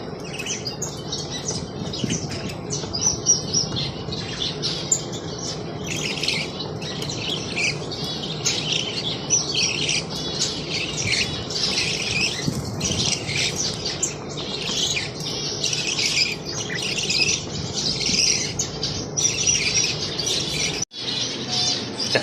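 Orange zebra finches chirp and squawk continuously in a cage, a dense, busy chatter of many overlapping high calls that keeps up steadily from start to end, with a brief pause near the close.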